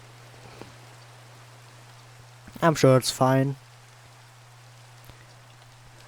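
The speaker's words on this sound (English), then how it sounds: "I survived my caving, and it's raining" Steady rain falling in the Minecraft video game world, a soft continuous hiss running throughout at moderate level, with a short spoken phrase over it partway through and a constant low electrical hum beneath.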